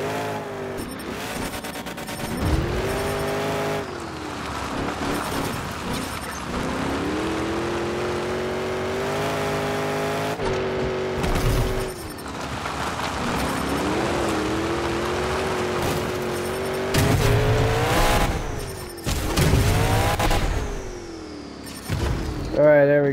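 Monster trucks racing side by side in the Monster Jam Showdown game, engines roaring and revving in surges and dips with tire skids, loud and continuous throughout.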